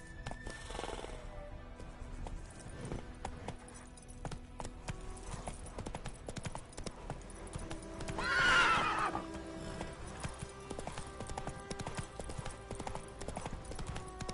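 Roach, the horse in The Witcher 3, gallops with a steady clip-clop of hoofbeats that carries through the whole clip. A whinny rises briefly about two-thirds of the way through, and game ambience sits underneath.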